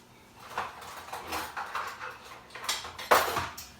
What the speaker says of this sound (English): I had to grab myself a fork